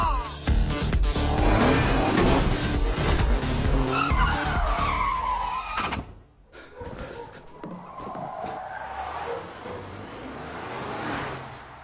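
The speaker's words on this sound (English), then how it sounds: "She then pulled off a slick U-turn and darted into a narrow alley" A car skids loudly through a slick U-turn, its tires squealing under a roaring engine for several seconds before the noise drops and the motor carries on more quietly.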